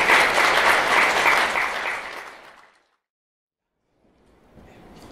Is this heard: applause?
yes